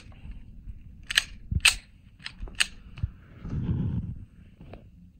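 A Tokarev pistol chambered in 7.62x25 fires into body armor in a sequence of sharp, close cracks, four or five quick reports in a loose burst, followed by a brief rumbling rustle and a final click.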